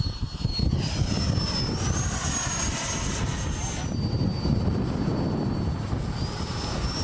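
A 3D-printed Harrier STOL model jet with nozzles angled about 25 degrees down flies with a steady, loud turbine roar and a high whine that shifts in pitch, with broadband wind-like rush throughout.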